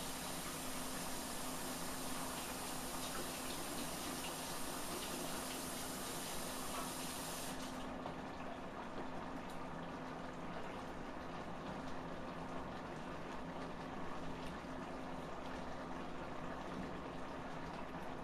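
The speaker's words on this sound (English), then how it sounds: "Drop my spoon, so I'm going to have to wash it up." A kitchen tap runs while a dropped spoon is washed, making a steady, fairly quiet rushing flow whose high hiss drops away partway through as the water continues.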